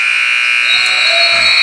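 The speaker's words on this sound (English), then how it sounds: "And a good opportunity by Bailey at the buzzer, but it doesn't fall." A basketball game-ending buzzer at a boys JV high school game sounds as a loud, steady electronic tone lasting the whole moment, with faint gym noise beneath it.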